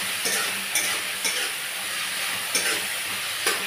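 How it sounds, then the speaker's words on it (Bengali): Potatoes with turmeric and salt fry in a pan with a steady sizzle, while a spatula scrapes through them in regular, evenly spaced stirs up close. "এইভাবেই আমি নাড়তে থাকবো আলুগুলোকে ভালো করে।"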